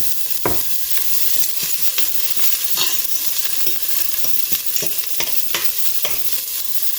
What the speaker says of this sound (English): So that will saute for a few seconds, then I'll add my garlic.